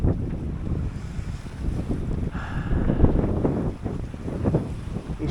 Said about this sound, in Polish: I szum wiatru.